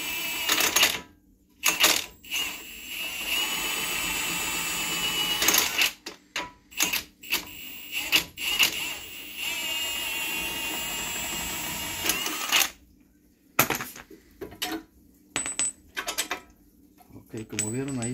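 Bolts come off a Ford Escape shock absorber in a series of close, rapid mechanical rattles and whirs. The bursts stop and start with short quiet gaps between them, much like a power tool working the fasteners.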